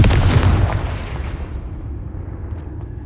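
Confringo fire spell explosion in Hogwarts Legacy, a single loud boom at the start that rolls off into a fading rumble.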